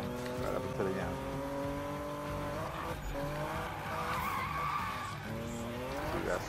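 Game car in Need for Speed 2016 drifting in a side-to-side wiggle, engine droning steadily with repeated tire squeals rising and falling as the car swings back and forth, loud and continuous throughout.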